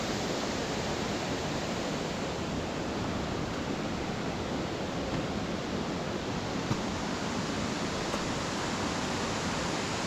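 A waterfall at Stichill pours in a constant dense roar, a steady broadband rush with no breaks, filling the whole scene with no voices.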